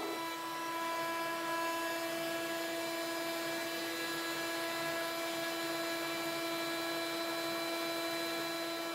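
A CNC router cutting dovetails in southern yellow pine, a steady high-pitched whine from the spindle with a constant hum and no breaks throughout.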